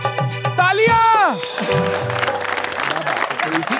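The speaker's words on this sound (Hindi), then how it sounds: "तालियां।" A studio audience on a talk show applauds in a dense, steady burst of clapping that rises as a sung note fades out, then continues evenly to the end.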